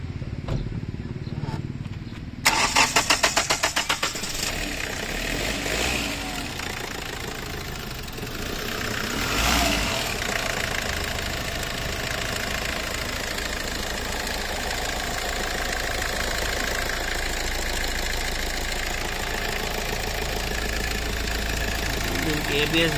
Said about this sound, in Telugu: బండి స్టార్ట్ అయ్యారు సార్ ఇంజన్ సౌండ్ కూడా చూస్తారు ఎందుకంటే పాత బండి కదా